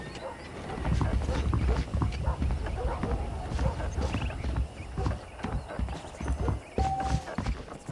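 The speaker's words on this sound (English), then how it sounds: "The horses are saddled up over here." Horse hooves clip-clopping in a steady walking rhythm in Red Dead Redemption, with a brief whinny-like tone and game ambience, voices talking over it.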